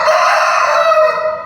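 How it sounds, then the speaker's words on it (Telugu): A rooster crows inside a police station lockup cell: one loud, close, sustained crow that holds steady before tapering off at the end. "వాటిని తింటూ కోడి కూతలు పెడుతుండటంతో"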